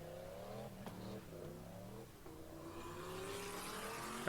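A car doing a tyre burnout, its engine revving in stepped rises and drops with gear changes and a hiss of squealing rubber building toward the end, heard at moderate volume through a playback.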